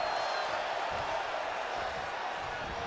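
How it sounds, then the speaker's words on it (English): A wrestling arena crowd in the WWE 2K20 video game, cheering during a Sasha Banks match, gives a steady, dense roar of many voices at a moderate, distant level with no distinct individual sounds. "but the crowd is loving Sasha's act"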